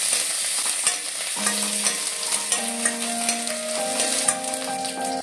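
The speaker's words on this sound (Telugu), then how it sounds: "ఇప్పుడు కర్రీ లీవ్స్ కూడా వేసి కొంచెం బాగా ఫ్రై చేయాలండి." Curry leaves frying in a pan of hot oil, a loud, close, continuous crackling sizzle with stirring, accompanied by a steady tonal hum in the background.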